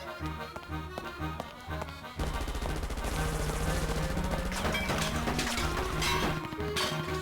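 Gunfire in the video game Professor Layton and the Lost Future, a rapid string of shots over game music, loud and steady, growing denser partway through.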